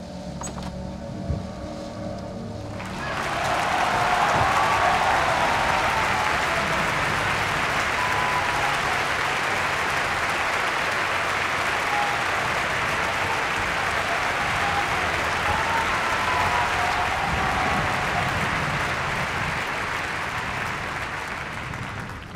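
After a quiet start, a large crowd bursts into sustained applause that holds steady for a long stretch before easing slightly at the end.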